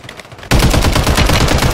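Rapid, loud automatic gunfire from a WSP-9 in the shooter game Warzone 3 erupts suddenly after a brief quiet moment and continues as a dense, close burst of shots to the end.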